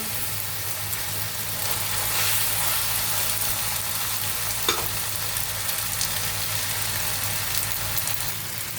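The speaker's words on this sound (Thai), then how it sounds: "ผัดให้แห้งเลยนะคะ" Spaghetti is stir-fried in a pan until dry, producing a dense, even sizzle with scraping stirs and one brief knock partway through.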